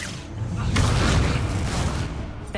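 Incendio fire spell cast in Hogwarts Legacy: a loud whooshing, booming burst of flame that swells and roars for a couple of seconds, then cuts off abruptly, with no speech over it.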